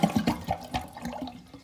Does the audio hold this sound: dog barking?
no